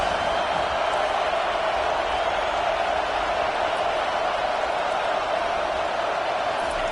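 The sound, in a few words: stadium crowd cheering in a football video game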